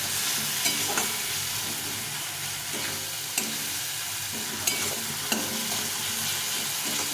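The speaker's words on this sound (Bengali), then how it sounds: "লবণ দিলে টমেটোটা গলে যাবে। একটু কষিয়ে নিয়ে মশলাটা দিয়ে দেবো।" Chopped tomatoes with turmeric and salt sizzle and crackle steadily in a hot pan, punctuated by a few sharp scraping stirs of the spoon, with no talking.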